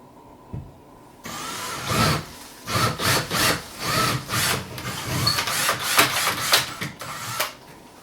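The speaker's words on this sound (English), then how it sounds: "now it's time to drill these 2 holes" A power drill boring holes into a wall while a TV wall mount goes up, a loud rough grinding that swells and fades in repeated bursts after a faint click at the start.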